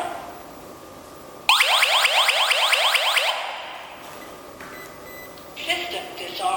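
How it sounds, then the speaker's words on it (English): Tutti wifi indoor alarm siren sounding when a door sensor is triggered, a loud rapid warbling electronic wail starting abruptly, repeating sweeps for about two seconds, then cutting to quieter electronic tones. "When the door sensor is triggered, the Tutti will alarm immediately."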